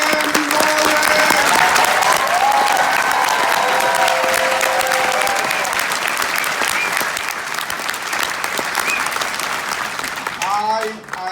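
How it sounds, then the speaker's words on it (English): Loud, sustained applause from a crowd at a state senator's inauguration, dense clapping over faint voices and cheers, easing slightly before a voice speaks at the end. "Let's give a big round of applause for the man of the hour, Senator Jim Gaughran."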